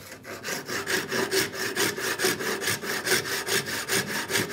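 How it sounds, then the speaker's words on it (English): A hand saw cutting wood for a raised faceted star, clamped in place, with about fifteen even rasping strokes in a loud, close, steady back-and-forth rhythm and no talking. "And let that saw flow"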